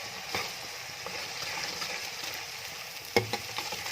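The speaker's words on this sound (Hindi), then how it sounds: "लहसुन और अदरक के पेस्ट को प्याज़ों के साथ फ्राई करेंगे" Garlic and ginger paste frying with browned onions in a pan for a chicken and drumstick salan, a steady close sizzle with a few sharp stirring clatters near the end.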